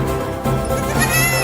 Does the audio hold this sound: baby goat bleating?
yes